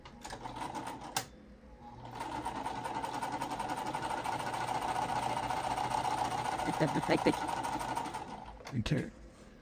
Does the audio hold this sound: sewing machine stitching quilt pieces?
yes